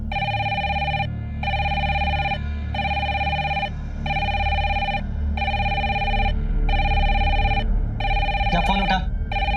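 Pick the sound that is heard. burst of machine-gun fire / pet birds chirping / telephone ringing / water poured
telephone ringing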